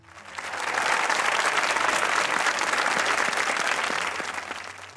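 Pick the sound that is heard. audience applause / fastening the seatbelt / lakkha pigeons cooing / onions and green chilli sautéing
audience applause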